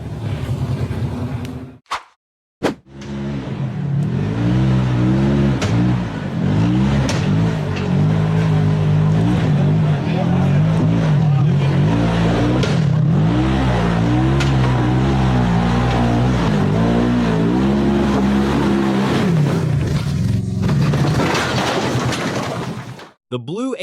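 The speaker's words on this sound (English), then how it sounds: "The rear tires spun violently, throwing out thick smoke as the buggy became stuck against the fallen tree." Off-road buggy engine roaring loud and steady at high revs for a sustained stretch, with a brief cut near the start, as its rear tires spin and smoke while stuck against a fallen tree on a steep hill climb.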